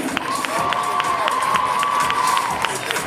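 Lively crowd at a Harajuku fashion show in France, with rhythmic clapping and cheering under a sustained shout, loud and continuous throughout.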